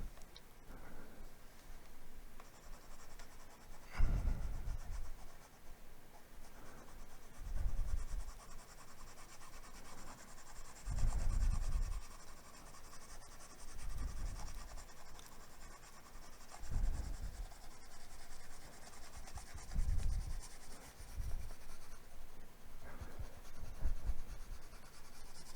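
A stylus scrubs back and forth across a digital drawing tablet while erasing, soft rhythmic scratchy strokes repeating every few seconds, close and quiet against a faint steady hiss.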